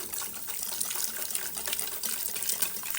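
Melted butter poured steadily into a bowl for cinnamon bun dough while another hand whisks, a continuous close liquid gush and splashing without talk.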